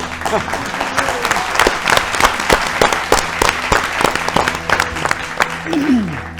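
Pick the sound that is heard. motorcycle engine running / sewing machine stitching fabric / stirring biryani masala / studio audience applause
studio audience applause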